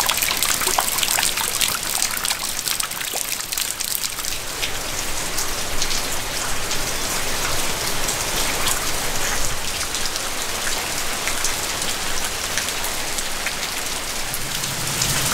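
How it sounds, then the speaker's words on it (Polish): Heavy rain falling steadily on a hiking trail in Japan, a dense, close hiss of drops striking surfaces with trickling water, constant and loud throughout with no talking. "Dosyć mocno pada, już mam mokre spodenki"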